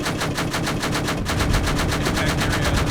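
A helicopter cannon fires during a military raid, a rapid, steady burst of loud mechanical shots that continues almost without pause, with a brief break midway.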